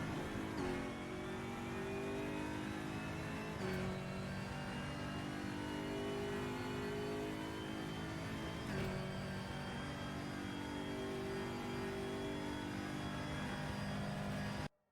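A race car at Mid-Ohio in the Raceroom sim racing game drones steadily through the laps, with its engine note rising and dropping through several gear shifts and a sharp click at each change.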